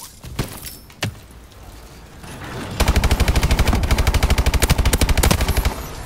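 Gunfire in the video game Call of Duty: Advanced Warfare: a few separate loud shots, then a sustained rapid automatic burst of about three seconds with a booming low end.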